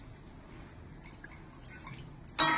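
A little water goes into a pan of coriander-leaf chicken that has been frying; after a quiet stretch, a sudden brief splash and hiss bursts out at the end.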